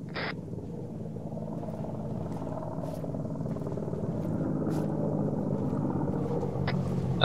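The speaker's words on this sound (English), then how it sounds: "Got three helos to the west, moving south" Three helicopters fly in Arma 3, a steady low rotor rumble that slowly grows louder as they approach, with no talk over it.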